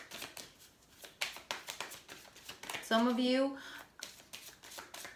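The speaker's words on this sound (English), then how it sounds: "2 more shuffles." A deck of Goddess Guidance oracle cards is shuffled in quick, papery riffling bursts, close to the mic, with a person talking over and between the shuffles.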